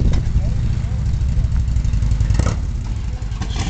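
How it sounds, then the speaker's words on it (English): Several motorcycles at a charity benefit ride start up and idle together, a steady low rumbling drone with occasional revs, under loud crowd chatter and nearby voices. "And they're gonna be starting their engines."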